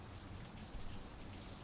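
Special effects rain from a hose on a film set, a steady dense hiss of falling water with a brief louder swell midway, close and continuous with no voices.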